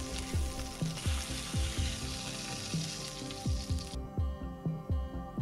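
A ribeye steak sears in hot oil in a pan, giving a steady, close sizzle with recurring crackling pops. The bright hissing drops away sharply partway through while the pops continue.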